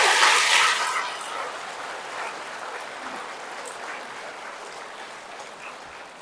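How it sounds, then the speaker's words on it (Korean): Church audience members applaud, a loud burst of clapping that fades quickly into lighter scattered claps and room murmur. "다시 박수 쳐주세요 단장님들."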